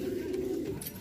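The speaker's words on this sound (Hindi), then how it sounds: "बाकी देखिए सब कबूतर फैंसी है इसके अंदर" Fancy pigeons, including Siraji and English breeds, coo in a steady low murmur throughout a one-second stretch inside a breeding setup, fairly close and continuous with no talking.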